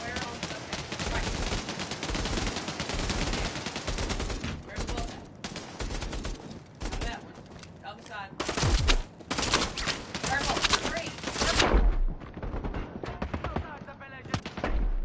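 Gunfire in the video game Bravo Team: dense, rapid bursts of automatic weapon fire keep up almost without pause, with some heavier thumps mixed in, while a player talks occasionally.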